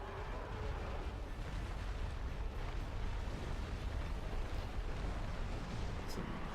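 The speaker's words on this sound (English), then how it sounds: "Some fireballs." Fireballs in Dark Souls Remastered roar as a continuous low, rushing blast of fiery noise, dense and rumbling throughout with little variation.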